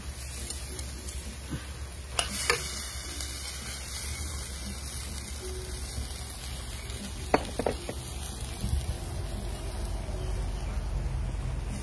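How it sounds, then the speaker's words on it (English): Masala and vegetables, including okra, frying in a pot for a Guyanese fish curry, a steady close sizzle with a few scraping stirs breaking through partway. "Let's stir this up."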